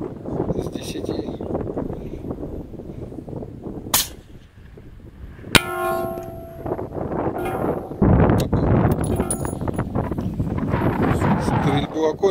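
Outdoor scene with wind noise and a voice talking, broken by a few sharp, loud gunshots, one around four seconds and another near five and a half.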